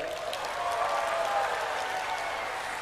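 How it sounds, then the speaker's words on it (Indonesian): A crowd claps steadily for a few seconds, a dense, even wash of applause without a clear break. "Tepuk tangan untuk Trenggalek."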